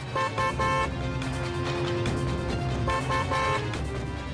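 A car horn honks repeatedly in short bursts and sustained blasts over steady traffic noise, loud and close.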